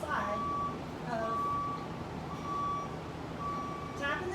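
A reversing vehicle's backup alarm beeps in a slow steady series of about four tones, moderately distant, over a dull background rumble.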